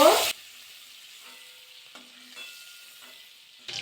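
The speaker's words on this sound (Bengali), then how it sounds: "নাড়াচাড়া করে কিন্তু চিংড়ি মাছটা ভাজা করে নিয়েছি" Shrimp in mustard oil: a brief burst of sizzling opens, then quiet frying crackles under occasional scraping stirs before another sizzle rises at the end.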